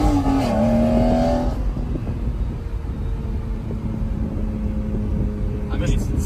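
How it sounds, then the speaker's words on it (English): A 2004 Lamborghini Murcielago's V12 engine revs up at first, then settles into a steady idle drone, close and loud, with a brief blip near the end. "the V12 sound on it, you know"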